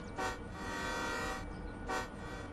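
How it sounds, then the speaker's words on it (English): A locomotive horn in the Derail Valley train simulator game sounds in two short blasts over a steady mechanical hum, loud and close, with a long sustained tone between the honks. "Let's go give a couple honks of the horn."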